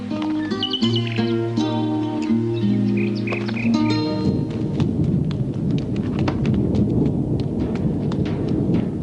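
Rumbling storm noise with steady rain takes over after a stretch of music with birdlike chirps, loud and continuous to the end.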